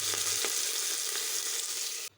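Freshly cut bottle gourd sizzles loudly in a hot tempering pan, a dense steady frying hiss with a few stirring scrapes before it abruptly cuts off.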